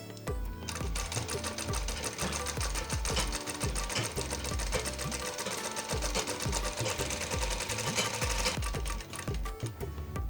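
A sewing machine runs continuously, double-stitching a kurti, its rapid needle chatter close and steady for nearly the whole stretch before stopping at the end.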